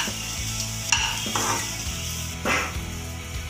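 Vegetable fried rice stirred in a pan, a close, steady sizzle broken by scraping spatula strokes and a couple of louder bursts of stirring, with no talking.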